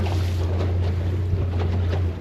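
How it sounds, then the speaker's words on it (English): Strong wind buffets an anchored fishing boat out on the water, a steady low roar and rumble of gusts with faint splashing, and no voices heard. "The wind's pretty strong"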